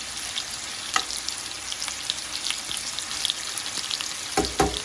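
Chicken frying in hot oil for chicken tikka masala, a continuous sizzle punctuated by sharp pops and crackles of spitting oil, fairly close and with no talking.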